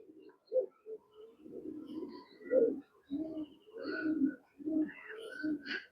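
Male Girbaz tournament pigeon cooing close by, a run of repeated low throaty coos in uneven bursts with brief pauses, alone without talk.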